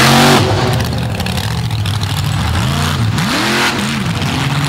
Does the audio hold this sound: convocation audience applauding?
no